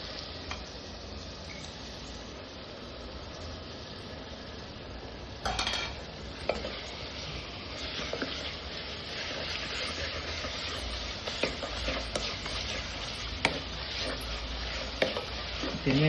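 Ingredients sautéed with asafoetida in a pan, a steady soft sizzle with occasional stirring clinks and scrapes of a spoon, close and continuous throughout.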